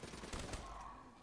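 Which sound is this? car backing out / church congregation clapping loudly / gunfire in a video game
gunfire in a video game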